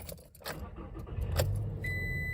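A Toyota Tacoma pickup is switched on, with keys jangling, then a low engine rumble rising and a steady high electronic chime near the end.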